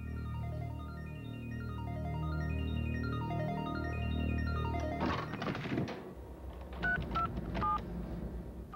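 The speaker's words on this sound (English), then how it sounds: "she makes this phone call not to talk, but to listen" A telephone number is dialed on a touch-tone phone, a long run of clear, evenly paced beeps at moderate level, followed by a few clunks and handset handling sounds near the end.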